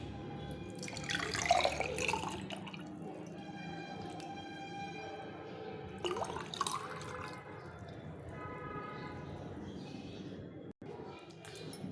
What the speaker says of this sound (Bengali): তো এটা আমি একটু ছেঁকে নেবো